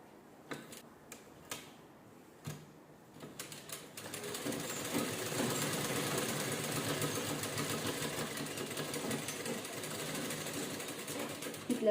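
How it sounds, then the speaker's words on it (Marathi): A sewing machine stitching canvas: a few isolated ticks and clicks at first, then a continuous rapid mechanical whirr of stitching that runs steadily to the end, close and fairly quiet. "आणि असं शिलाई करून घ्यायचं."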